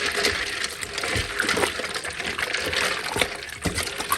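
Blanched amaranth leaves go into a bowl of ice cold water with splashing, trickling and small clinks that continue unevenly throughout.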